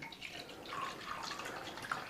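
Kangen water being poured into tea, a soft steady trickle of liquid with light dripping, fairly quiet and heard alone without talk.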